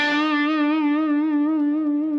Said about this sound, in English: goes up in pitch and then comes back down to the original pitch.